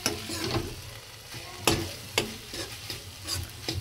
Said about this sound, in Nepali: जिन्जर गार्लिक पेस्ट फ्राई हुँदैछ हाम्रो